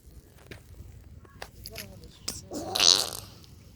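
A mouth-made imitation of a fart, a loud buzzing raspberry near the end, preceded by scattered small knocks and brief voices close by.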